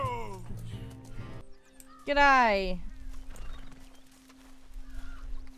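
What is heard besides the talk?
horse neighing and hooves, video game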